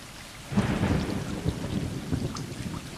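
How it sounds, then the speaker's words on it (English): Rain and rumbling thunder in the video game Stray: a heavy thunder roll breaks in after a quiet start, over steady close rainfall and patter that continues to the end. "Oh no, it's raining."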